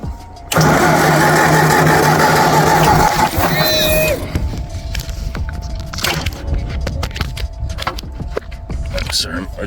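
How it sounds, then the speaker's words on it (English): An old tractor engine cranks and catches, running loud and rough for a few seconds before settling into a steadier idle, with a person speaking over the running engine. "we're gonna get this tractor started"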